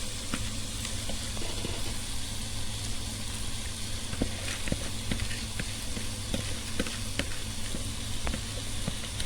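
Vegetables sizzling in a pan for shrimp biryani, a constant soft frying hiss broken by frequent light scraping and clicking as a utensil stirs them close by.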